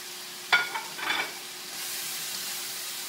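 Leftover vegetables are tossed into a hot pan, giving one sharp sizzling hiss followed by a few quick stirring scrapes and a softer steady frying sound, with no speech.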